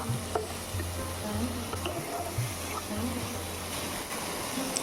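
Tomato with salt is sautéed in a pan on low heat, a continuous soft sizzle with faint scraping stirs and a low hum underneath, no talk.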